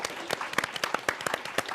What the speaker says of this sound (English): please put your hands together for our wonderful panel